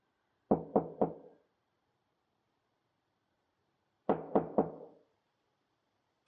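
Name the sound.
knocking on a door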